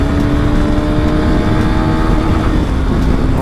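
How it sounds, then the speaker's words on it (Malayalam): A Honda CB200X motorcycle accelerates hard in third gear, a loud, continuous engine drone that holds steady and close throughout, with no voices. "തേർഡ് ഗിയറിൽ തന്നെ വണ്ടി 90 നല്ല സിമ്പിളായിട്ട് കയറി പോകും."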